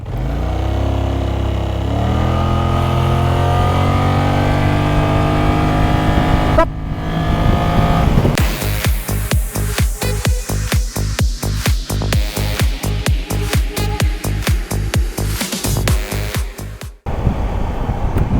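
A 2024 Kymco AK550i maxi scooter, almost 51 horsepower, revs up and accelerates hard, loud and close, with a steady drone, a brief cut, then rapid pulsing roar as it pulls away.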